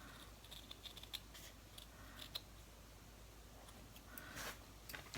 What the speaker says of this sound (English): Put my scissors up to the stitch and cut one cut.